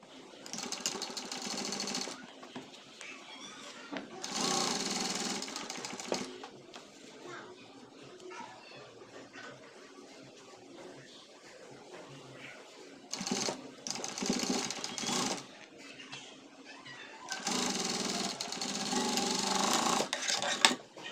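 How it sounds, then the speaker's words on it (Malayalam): A sewing machine stitches face mask fabric in several loud whirring bursts of a few seconds each, with a quieter stretch in between where a person speaks. "പിടിച്ച് വെച്ചിട്ട് 1/4 ഇഞ്ച് ഗ്യാപ്പിൽ തയ്ച്ച് പോരുക."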